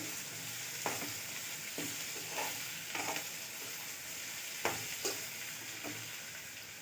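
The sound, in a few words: stirring chopped ingredients while cooking in a pan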